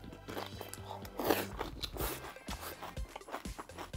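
Someone eats a crunchy, tangy spicy squid and bean sprout salad up close, with repeated moist crunching and chewing bites in an irregular rhythm and brief low vocal sounds between them.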